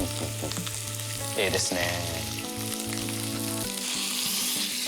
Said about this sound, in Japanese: やっぱお肉焼いていくのがいいと思います。 こういうじゃがいもも焼いちゃいます。